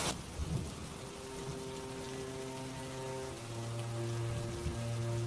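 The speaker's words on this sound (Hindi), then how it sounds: "तुरंत आसमान में बादल घिर आते हैं और तेज मूसलाधार बारिश होने लगती है" Heavy torrential rain pours down over farmland with thunder, a dense continuous hiss with low rumbling swells, joined by a soft sustained musical drone throughout.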